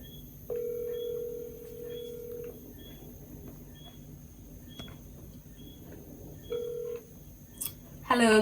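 A phone dials out for a radio call-in show, a few steady tone beeps and short keypad tones against a faint background hum, ending in a brief burst of noise.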